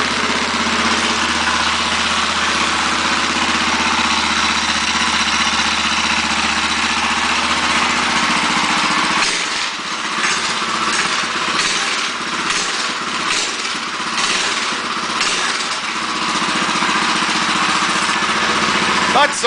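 A motorized mountain bike converted to a moped, fitted with a torque converter, runs with a steady engine hum close by, its tone shifting and roughening partway through as the revs change.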